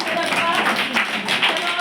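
Children in a classroom clap their hands together after a story is read aloud, a dense run of quick, overlapping claps lasting under two seconds, fairly close and steady in loudness.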